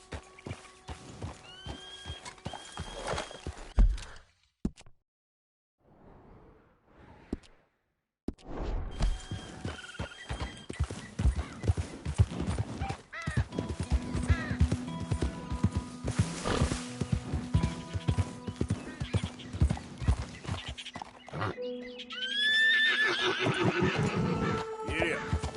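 Horses in the Red Dead Redemption 2 video game give repeated loud neighs and whinnies over rhythmic hoof clip-clops, with a brief quiet gap early on and a voice speaking at times.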